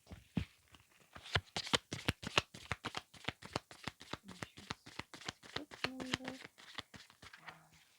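Tarot cards shuffled by hand in a rapid, steady run of crisp riffling snaps and clicks, close and fairly loud, continuing for the whole stretch with faint tones in the background.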